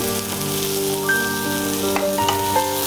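Sliced onions fry in a little oil in a pan, giving a steady soft sizzle and hiss throughout, with a faint tonal hum underneath.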